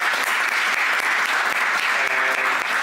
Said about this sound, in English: please have a round of applause for this panel